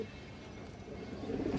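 Racing pigeons kept for long-distance races give soft, low, continuous cooing that swells slightly toward the end, close by and with no speech over it.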